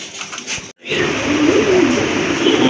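Madrasi Golla pigeons, a large fancy breed, give a close, steady run of soft low cooing after a brief pause, filling the clip without speech.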